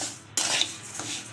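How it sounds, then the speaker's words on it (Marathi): Rice grains being dry roasted in a pan over a low gas flame, a short burst of scraping and clinking from a utensil stirring against the metal pan, close and fairly loud with no voices. "प्रथम आपण इथे बारीक गॅस करून तांदूळ भाजून घेणार आहे"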